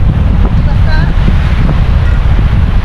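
Rough sea and gusting wind on a boat trip, a loud, steady roar of wind buffeting the microphone over churning water, with a brief faint whistle-like tone partway through.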